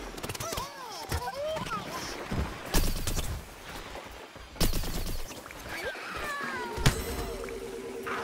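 Gunfire in the Plants vs. Zombies Garden Warfare video game: repeated bursts of cartoonish shots and blasts among whistling game effects, with players talking throughout.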